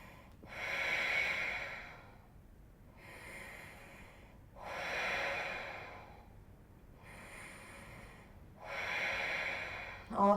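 Slow, deep yoga breaths come close and clear, with five long airy inhale-exhale swells spaced evenly about two seconds apart, with quiet pauses between them.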